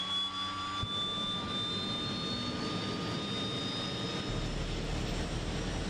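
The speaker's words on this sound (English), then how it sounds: "and then we are clear to start our engines" Aircraft engines spooling up at startup in Microsoft Flight Simulator 2020, a steady loud roar with rising whine tones climbing gradually, and a deeper rumble joining near the end.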